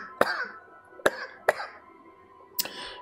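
A person with an irritating winter cough hacks four times: three sharp, harsh coughs in close succession, then a fourth after a short pause, fairly near, with no talk.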